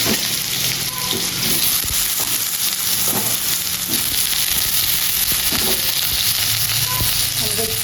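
Potatoes frying in a hot pan for posto, a Bengali poppy-seed dish, give a loud, steady sizzle with occasional stirring scrapes and faint clinks throughout.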